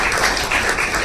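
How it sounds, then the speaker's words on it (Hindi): A crowd claps for a kabaddi player being introduced at a Puneri Paltan event in Delhi, producing a dense, steady wash of applause that fills the whole moment without pause. "एक बार इनके लिए भी जोरदार तालियां"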